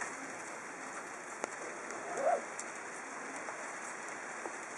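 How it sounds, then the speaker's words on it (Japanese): Steady rain falling outdoors at a shrine in a broad continuous hiss, with a few soft isolated drips and a faint bird call in the background; no speech. "あ、雨降ってる。"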